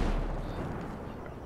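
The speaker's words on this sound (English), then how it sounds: "they give the best secondary explosion in the game, too. It shakes the ground." A truck blows up in the video game Ghost Recon Breakpoint, giving a heavy, sustained rumbling blast that holds its loudness for over a second.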